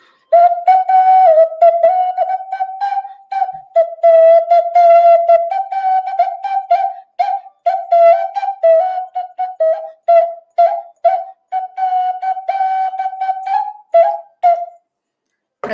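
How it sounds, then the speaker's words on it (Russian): Children's toy whistles play together in an ensemble, sounding bright warbling trills in short overlapping bursts that go on steadily for about fourteen seconds before stopping. No voices are heard. "Свистулечки вступают."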